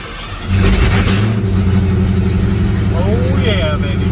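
A Ford Fox body Mustang pulls away close by, its mid-pitched engine rumbling loud and steady as it revs and drives off, with a brief rising tone near the end.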